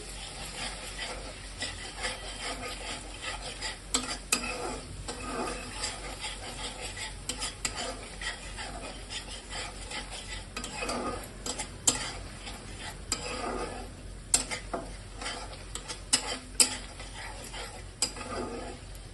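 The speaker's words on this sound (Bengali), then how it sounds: "ভালোভাবে মশলাটাকে আমরা কষিয়ে নেব।" Spice paste with ground chilli being stirred and fried in a pan over medium heat for Bengali catfish curry, with steady sizzling and repeated scraping and clinking of a utensil against the pan throughout.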